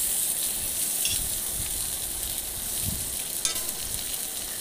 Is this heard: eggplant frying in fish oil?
yes